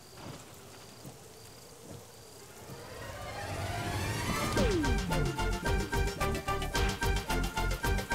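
Heavy rain falls steadily with rumbling thunder in a residential colony, the downpour swelling louder partway through and then carrying a rhythmic, pulsing pattern to the end.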